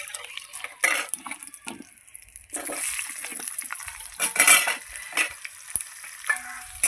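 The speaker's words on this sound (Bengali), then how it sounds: "এই যে এইভাবে আমি এবার আলুগুলোকে তেলে ভেজে নেব।" Long strips of potato fry in hot oil with a bright, crackling sizzle and intermittent stirring clatter, close and moderately loud, with no talk.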